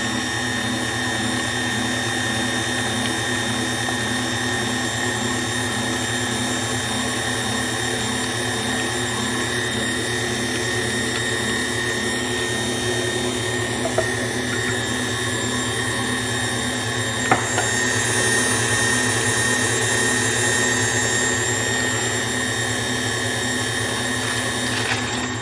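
An electric hand mixer mixes flour into chocolate zucchini bread batter made with Kodiak Cakes protein mix. It gives a steady, continuous motor whine at a low speed that holds unchanged throughout, with a faint clink near the end.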